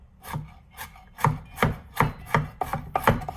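A chef knife chopping food on a cutting board in a steady series of about a dozen crisp, close thuds, speeding up toward the end, with no talking.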